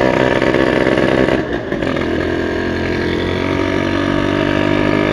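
A V80 motorcycle engine runs steadily at night in Cikarang, a loud close drone with a brief dip in level partway through before settling back to a constant note, no talk.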